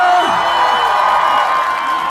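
A concert crowd at a chrysanthemum festival celebration show cheers and whoops loudly, a dense continuous roar of voices and applause close by, holding steady for the whole moment.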